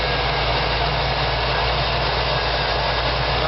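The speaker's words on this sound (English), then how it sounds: "Turn key, start right up, first try." A Jeep 4x4 mud truck engine fitted with MSD Atomic EFI idles steadily and loudly, a constant low rumble with no talking.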